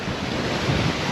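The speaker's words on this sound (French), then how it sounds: "Ça déferle." Steady roar of breaking waves and strong wind at sea around a sailboat heading to Gibraltar in 24-knot winds, a continuous loud wash with gusty wind noise on the microphone.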